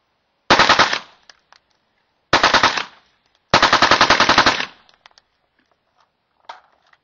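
Three bursts of rapid fire from a suppressed .223 rifle with a 14.5-inch barrel and a QSM 30 cal titanium suppressor, each string of shots loud and close, with short quiet gaps and faint clicks between them.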